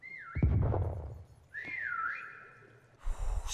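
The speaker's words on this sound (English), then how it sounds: "We have a whistle in literally 2 seconds." Two rising-and-falling whistle tones, one short and one longer, ring out in a quiet dark space with a thump between them and a burst of noise at the end.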